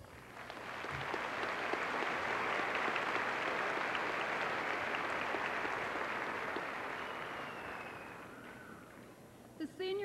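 Sustained, dense applause from a large audience at a 1997 Richmond High School graduation ceremony, fairly distant and even, swelling and slowly fading toward the end.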